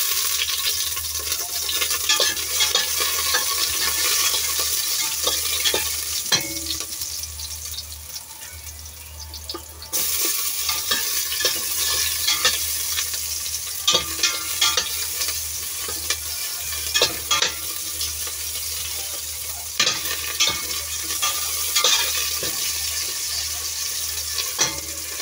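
Garlic frying in hot oil, a steady loud sizzle running throughout with scattered scraping stirs and clinks, while a brief rushing burst like running water or a tap cuts in partway.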